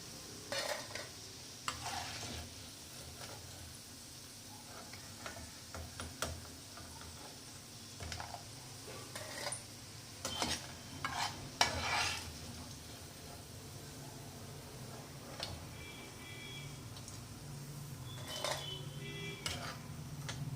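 Egg fritters for Egg 65 sizzle and crackle gently in hot oil, soft steady frying broken by scattered clicks and spoon-and-pan clatter, quiet and close, with no voices.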